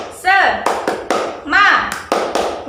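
Classroom of children doing a rhythmic clapping cheer: sharp claps in a patterned beat mixed with children's chanting voices, loud and close, repeating twice across the short stretch.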